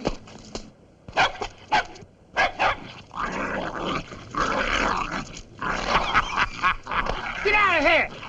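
A dog barks in short, loud bursts amid a chaotic old slapstick comedy scene, with someone shouting over the commotion and the barks mixed into the voices.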